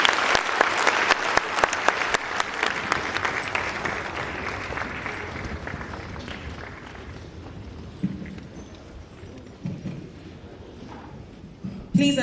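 Loud applause from a crowd at the Sierra Leone Mining Week gathering of African diamond producers, dense clapping that gradually fades over several seconds, then a few scattered claps and brief knocks near the end.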